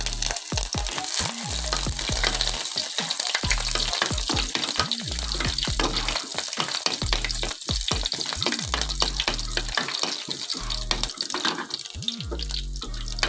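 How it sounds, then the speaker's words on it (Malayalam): Chopped shallots and crushed ginger frying in hot oil with crackled fenugreek seeds over a medium flame for a fish curry, a steady close sizzle with rhythmic scraping and stirring, no voices. "ഉലുവ പൊട്ടിക്കഴിഞ്ഞതിന് ശേഷം നമ്മൾ അതിലേക്ക് ഒരു മൂന്നാല് ചെറിയ ഉള്ളി അരിഞ്ഞ് ചേർത്ത് അതിന് ശേഷം ഒരു ഒരു കഷ്ണം ഇഞ്ചി ചതച്ചതും കൂടി ചേർത്ത് കൊടുക്കാം"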